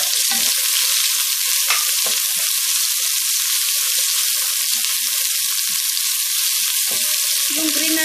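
Onions fry in a hot pan for fried rice with a loud, continuous hiss and crackle, broken by a few scattered soft knocks from a utensil.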